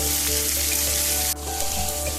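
Onions and small cubed tomatoes sauté in a pan, giving a loud, continuous close-up sizzle with faint stirring, alone without any voices.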